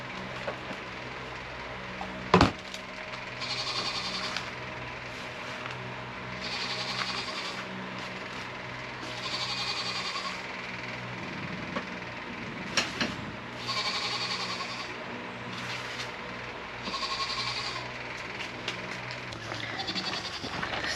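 Farm goats waiting by a gate bleat repeatedly in short, insistent calls, some close and some farther off, over a low rumble of outdoor background noise.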